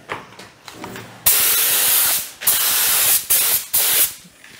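A spray gun applying fake patina paint in several bursts: one long hissing blast followed by three shorter ones, loud and close, with clicks of the trigger mechanism between sprays.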